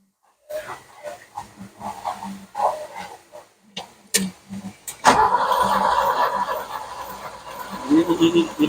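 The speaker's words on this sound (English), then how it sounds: "If 4 can fire, I know this car can start." Six-cylinder car engine on a troubled build with only some plugs firing, several short cranking bursts, then a sustained rough running roar close by, with people talking over it.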